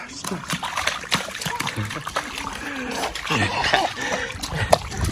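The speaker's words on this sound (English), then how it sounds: "Splash." Water splashes and dribbles close by amid lively background chatter and a voice, with scattered sharp splatters throughout.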